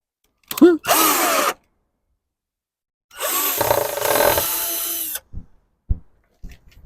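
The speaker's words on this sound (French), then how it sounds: "Ça va tout la visser." Power drill driving screws into a wooden accent wall, two loud close bursts of whirring with a short one first and a longer run later, followed by a few small clicks and knocks.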